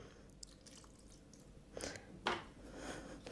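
Water is added bit by bit to a batter while it is stirred, making a few soft wet drips and squishy splashes that come in short bursts near the end against a quiet kitchen background.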